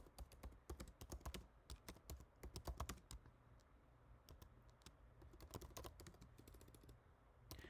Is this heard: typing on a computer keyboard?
yes